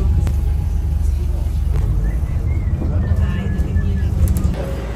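Riding in a car through London streets toward Harrods: a continuous low engine and road rumble from inside the cabin, with faint soft clicks and noises over it and no clear talk.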